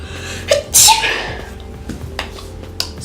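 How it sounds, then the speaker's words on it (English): A single sharp human sneeze rings out close to the microphone, preceded by a brief inhale and followed by faint room tone. "I have to sneeze."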